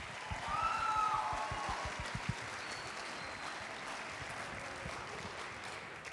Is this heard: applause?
yes